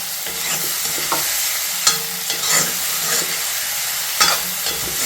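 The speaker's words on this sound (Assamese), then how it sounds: "এতিয়া নিমখখিনি দি লাৰি দিওঁ।" Chicken pieces with salt are stirred in a hot pan, with a steady close sizzle of frying and repeated scraping clinks of the spoon against the metal, and no voices.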